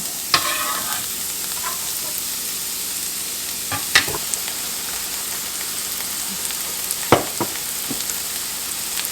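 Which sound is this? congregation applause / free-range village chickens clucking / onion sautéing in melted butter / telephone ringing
onion sautéing in melted butter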